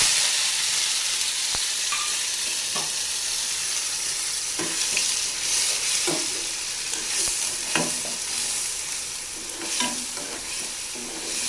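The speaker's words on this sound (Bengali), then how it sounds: "এখানে এই কড়াইতে চিংড়ি মাছটা বানিয়ে নেব।" Prawns fry in a kadai with a steady, loud sizzle and hiss, broken by repeated scraping clicks of a spatula stirring them, close up and without any voices.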